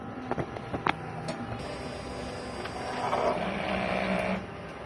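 A sublimation printer runs its head cleaning cycle, whirring and clicking through a mechanical cycle, with short knocks early on, then a steady motor hum and a rising whine before stopping.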